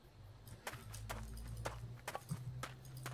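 Hooves of a horse in the Albion Online video game clip-clop in a quiet, uneven walking rhythm over a low hum, with a few sharper steps toward the end.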